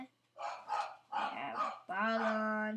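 A pet dog nearby lets out a couple of short barks and then a longer whining yelp, mixed in with a person talking.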